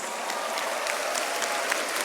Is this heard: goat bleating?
no